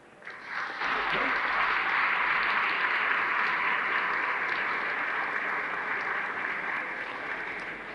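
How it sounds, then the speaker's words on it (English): Applause in a state house chamber for a state football champion, a sustained crowd of clapping that swells in after a short pause and carries on at an even level. "Please give Tom your applause on his state championship."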